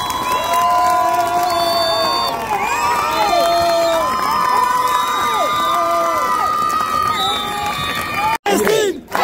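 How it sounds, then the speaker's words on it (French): A crowd at an outdoor Palestine solidarity rally in Annecy cheers and claps, a dense, sustained roar of voices with whistles and shouts, loud and close, with a brief drop near the end. "Vous pouvez applaudir."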